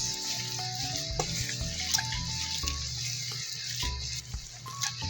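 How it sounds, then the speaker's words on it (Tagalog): Homemade skinless longganisa meat is mixed with liquid seasoning and other ingredients, giving a steady wet squelching and churning. It carries on without a break, with faint tonal background sound underneath. "haluin ulit natin. Yan sa mag-mix lahat ng mga ingredients."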